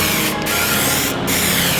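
A spray gun hisses steadily as black paint goes onto a carbon-fibre rear wing for a Ford Focus ST/RS. The loud, close, continuous spray breaks off twice for brief pauses.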